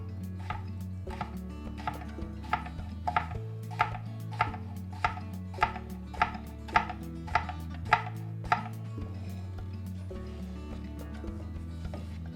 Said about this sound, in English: I'm going to cut them in half lengthwise and then do a thin slice across